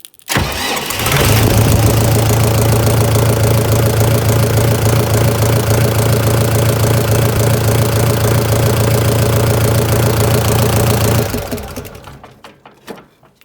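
A diesel engine fitted with a flame glow plug cranks and fires up, then runs at a loud, steady idle for about ten seconds before shutting off and falling quiet, close to the microphone with no talking.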